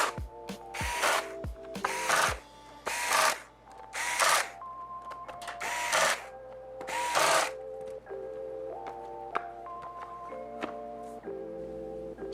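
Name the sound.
tightening laptop screws during Lenovo 100E G3 battery replacement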